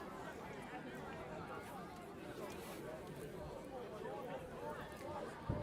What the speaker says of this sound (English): There's a lot of anticipation you can hear in the crowd.